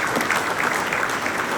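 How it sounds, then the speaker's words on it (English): A room of roughly 220 attendees at a State of the Community event claps for the local Chamber; steady, dense applause fills the moment evenly from start to finish. "how about a round of applause for the Chamber for putting this on?"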